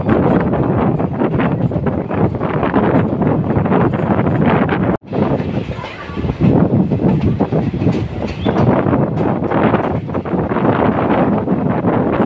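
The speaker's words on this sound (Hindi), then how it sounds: "सामने देखिए कर्व अपनी ट्रेन भी ले रही है।" A train runs on rails through a curve in dense forest on the Dehradun–Haridwar line, a steady loud rumble with rhythmic clickety-clack and wind buffeting the microphone throughout, briefly dipping near the middle.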